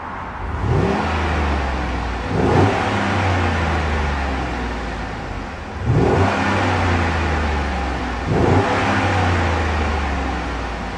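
A used car's engine is revved four times in succession, each blip rising sharply then settling back to a steady idle; loud and close, with no talking.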